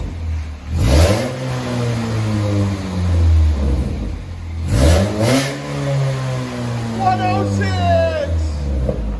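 A 2007 Chevy Cobalt fitted with a Rumble Series exhaust revs up twice in deep rising and falling surges, loud and close, with people talking between and under the bursts.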